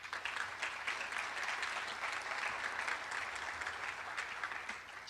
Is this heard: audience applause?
yes